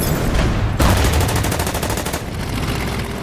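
Units trading fire in the Winter War strategy game Order of Battle, loud clusters of rapid shots and bursts packed together in quick succession, with no talking.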